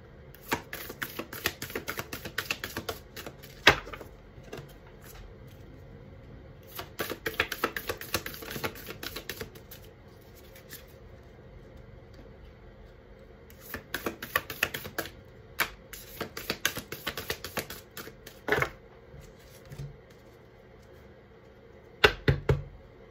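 Bursts of rapid crisp tarot card shuffling, repeated several times with pauses between, close and fairly quiet.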